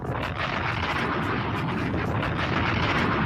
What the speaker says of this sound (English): Drop 2 bombs for my man Dame.